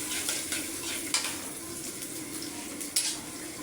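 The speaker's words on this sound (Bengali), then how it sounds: "এখন পেঁয়াজ কুচিগুলো আমি নেড়ে চেড়ে নিচ্ছি।" Chopped onions frying in oil in a pan are stirred, giving a steady close sizzle with soft scraping strokes and a couple of sharper clinks, no voices.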